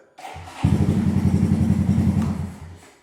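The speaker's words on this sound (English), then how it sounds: "Fire the bike up." A Honda Monkey motorcycle engine cranks briefly, catches and starts, settling into a loud, steady low idle that fades slightly toward the end, with no talking.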